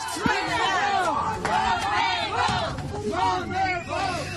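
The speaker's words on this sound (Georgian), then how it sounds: "შეძახილებით აცილებენ მოსამართლეებს რესტორანში" Protesters outside a restaurant shout and chant at judges arriving for a New Year party, with loud overlapping voices forming a rhythmic, rising and falling crowd roar of jeers and calls.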